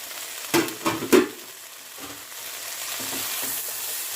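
Chopped eggplant fries in a pan: a few sharp clatters of spatula against metal at the start, then a low, steady sizzle continues alone.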